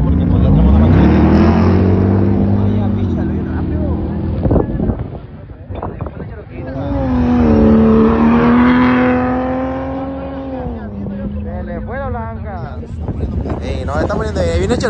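Loud engines rev and rise in pitch as trucks, including a Ram TRX, accelerate hard at a drag racing event, fading then surging again as another roars past, with wind buffeting the microphone.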